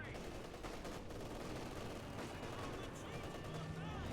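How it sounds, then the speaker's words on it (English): Artillery barrage and gunfire in a World War II strategy game, a dense, continuous rumble of blasts and shots that fills the whole clip at a steady loudness. "Time on target, artillery barrage coming down."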